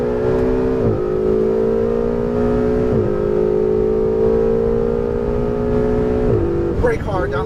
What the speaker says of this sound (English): accelerating, full power